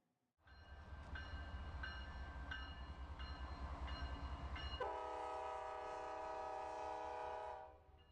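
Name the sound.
commuter train passing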